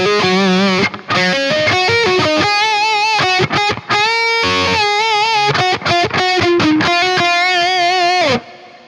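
A distorted electric guitar plays a slowed-down solo from a song, with pinch harmonics. Loud, sustained notes shift in pitch, broken by short gaps between phrases, and the guitar plays alone.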